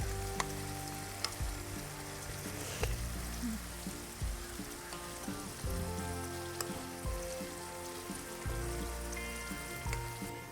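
Fish pieces frying in a pan on low flame after being turned to cook the other side, a steady dense sizzle and crackle running throughout at close range, with music playing underneath.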